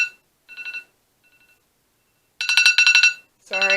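An alarm sounds in a room where wax seals are being made near a small fire, with a short faint chirp, then a loud harmonic tone blaring for about a second, then another loud blast starting.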